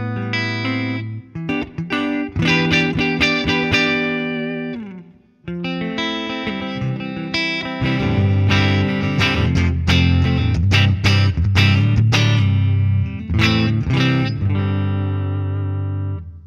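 An electric guitar with PAF-style pickups runs through a Line 6 HX Stomp with only room reverb, pushed hard into the amp front end. It plays driven, slightly distorted chords and riffs with brief pauses, alone and up close.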